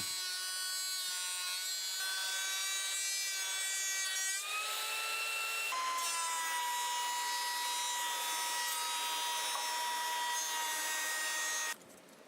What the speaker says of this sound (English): I decided to use the planer just to make things a little bit smoother